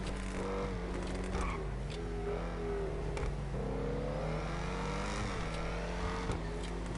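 Ocelot XA-21 supercar stock engine in a video game, revving repeatedly with rising and falling pitch sweeps and brief gear-change dips, loud and close with no talk.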